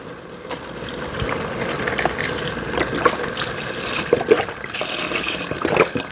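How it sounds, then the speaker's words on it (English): A cup of water is poured into a pot of creamy tortellini, spinach and mushroom soup, giving a brief trickling splash among soft liquid and kitchen noises, fairly quiet. "in goes my cup of water"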